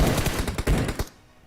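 Rapid bursts of gunfire in a mobile battle royale video game, with an AWM sniper rifle mentioned, about eight loud close shots in quick succession that then cut off abruptly.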